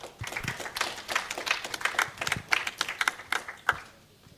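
Conference audience at a data event applauding as a lecturer is welcomed to the stage, moderately loud clapping with uneven, sharp individual claps that thin out toward the end.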